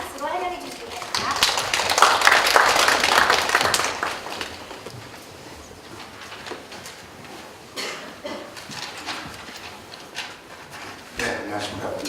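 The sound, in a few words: audience applause welcoming speaker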